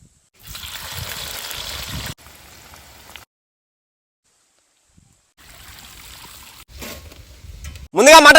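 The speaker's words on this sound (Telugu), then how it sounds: "ఇప్పుడు నూనె పోసుకుందాం." Oil poured into a pot for mutton dum biryani, a soft trickling stream in short bursts separated by silent gaps, ending in a louder clatter.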